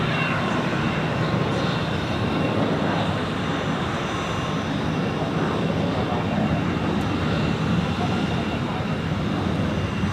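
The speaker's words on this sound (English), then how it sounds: "We have another heavy being pushed back at dock E. It's a United Airlines Boeing 767-400ER to Washington." Steady, loud jet and airport apron noise surrounds a United Airlines Boeing 767-400ER heavy twin-jet being pushed back at dock E of Zurich Airport, a continuous broadband roar with no breaks across the whole stretch.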